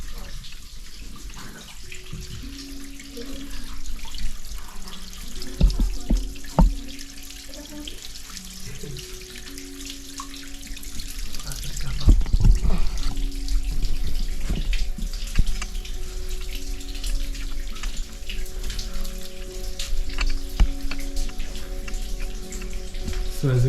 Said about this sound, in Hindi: यहाँ पे पानी निकल रहा है, वहाँ से जमा होता है, वहाँ यहाँ से धार निकल रही है एंड यहाँ पे जमा हो रही है।